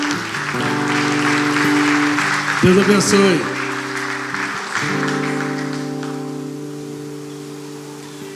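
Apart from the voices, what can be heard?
congregation applauding for the Conajupe group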